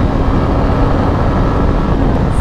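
A new motorcycle cruises at speed in fifth gear, with a loud, dense, even roar of engine and wind noise up close, steady and unbroken.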